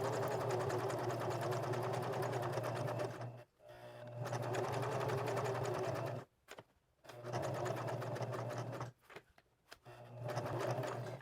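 Sewing machine stitching a fabric collage project runs in a steady rapid hum, stopping briefly three times as the work is adjusted and then resuming, close and clear with no talk.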